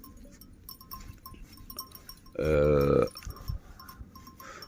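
A single loud sheep bleat rises briefly out of a quiet outdoor background at a highland pasture with a flock of sheep, with a short human vocal sound nearby.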